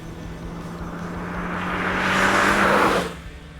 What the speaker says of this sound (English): the surge of turbo boost on corner exit makes for a splendid occasion